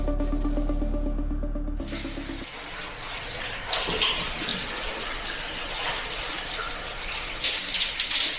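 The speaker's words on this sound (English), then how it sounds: "I don't want to come out of this hot water." Hot water runs steadily into a bath or shower, a broad continuous rush that starts abruptly after a low hum and carries on loud and close throughout.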